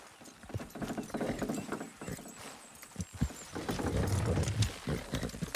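Horses clip-clopping in Red Dead Redemption 2, an irregular run of hoof thuds on the ground mixed with wheel and harness rattles, moderately close with faint ambient game sound.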